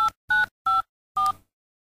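Telephone keypad being dialed: four short DTMF tones in quick succession, each a clean, steady two-pitch beep separated by brief silences, close and clear with no talking.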